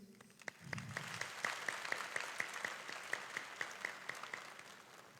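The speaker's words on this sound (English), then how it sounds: "I would like you to join me in giving a round of applause to all of our families, guardians, and all of the grown-ups who supported us" An audience at a 2021 high school graduation ceremony applauds; thin clapping rises after a moment and continues as a moderate, fairly sparse patter of hands at a distance.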